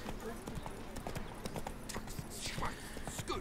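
Horse hooves clip-clop at a steady trot in The Witcher 3: Blood and Wine, crisp and close, with a brief whoosh of game effects near the end.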